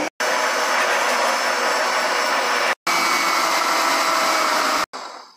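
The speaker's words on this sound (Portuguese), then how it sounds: "Vamos lá, então, com o liquidificador ligado." A blender runs loudly and steadily at close range while mixing passion fruit cream, its motor roar briefly cutting out twice before starting again.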